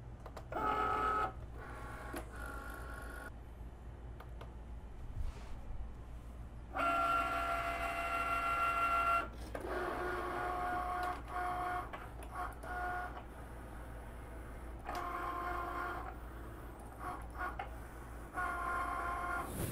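A Cricut cutting machine cuts a printed sheet with green foil on one side, giving bursts of whirring, buzzing carriage movement split by short pauses, with steady mechanical hum underneath throughout. No voices are heard.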